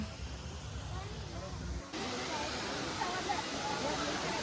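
Water at CKM falls rushing in a dense, steady broadband roar that grows louder and fuller midway as the listener moves closer, with faint voices beneath.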